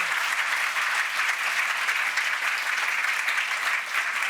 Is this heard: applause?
yes